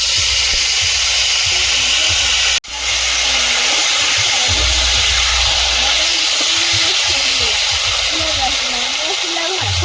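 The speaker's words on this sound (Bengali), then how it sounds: "আলুটা আগে একটু ভেজে নিচ্ছি" Potatoes fry in hot oil with a loud, steady sizzling hiss that fills the clip, with a faint voice murmuring underneath and one brief sharp break.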